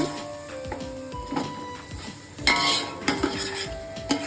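Spoon scrapes and clinks against a pan as Tamil Nadu–style mutton biryani masala is stirred, with steady rhythmic stirring strokes, a faint sizzle underneath and a louder burst of scraping midway.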